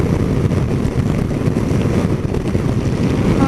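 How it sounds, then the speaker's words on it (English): Steady, heavy wind buffeting a rider on a Yamaha Tracer 900 GT motorcycle at speed, a loud continuous low roar that fills the whole stretch with no talk. "better than the wind hitting me in the head"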